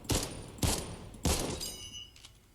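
Three sharp gunshots ring out at steady intervals in Fortnite, each loud and crisp with a short decaying tail, followed by the faint mechanical clicks and slides of a reload.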